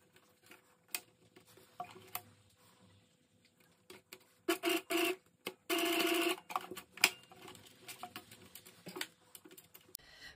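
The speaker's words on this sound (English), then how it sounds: "Now we're going to stitch the elastic together." A sewing machine stitches elastic together for a homemade fabric face mask, with short whirring runs of rapid stitching between soft handling rustles and clicks, close and fairly quiet.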